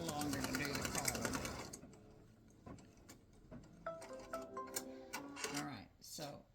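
An embroidery sewing machine stitches a Father's Day greeting card, running at first with a fast, dense whirr, then falling into sparse ticks and short mechanical clicks under a person talking.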